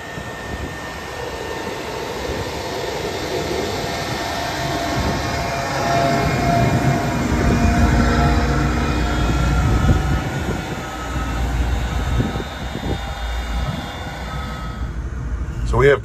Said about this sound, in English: watching this machine equipped with an 18-row, 30-inch, 45-foot-wide Vaterstad planter planting soybeans in